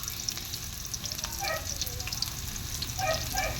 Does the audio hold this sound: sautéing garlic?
yes